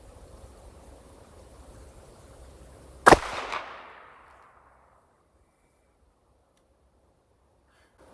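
A single sharp shot from a Tisas Stingray handgun at an outdoor shooting range, a loud close crack with a short echoing tail that fades into near silence.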